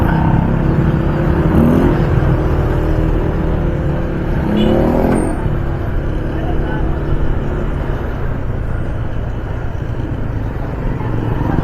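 A motorized tricycle ride in Mariveles, Bataan, with a continuous loud engine drone and road rumble throughout and people talking over it.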